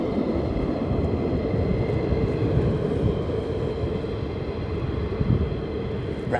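An F-15 Strike Eagle jet flying low at RAF Lakenheath gives a continuous broadband roar, steady and fairly loud throughout, with no voices.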